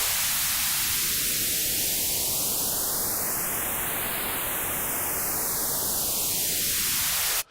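Steady broadband noise passed through a synthesizer notch filter whose hollow notch sweeps slowly up through the spectrum and back down, giving a phaser-like whoosh that runs continuously and loud, then cuts off abruptly at the end.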